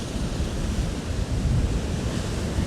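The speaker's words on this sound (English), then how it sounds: "The wind's a little bit annoying." Strong wind buffets the microphone on the Northumberland shoreline, a loud continuous roar blended with crashing surf, with no voices.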